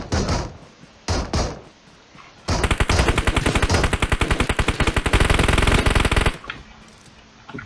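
Automatic gunfire in the mobile battle-royale game PUBG Mobile during a squad match: a few short separate bursts, then a long loud sustained volley of rapid rhythmic shots, followed by quieter scattered noise.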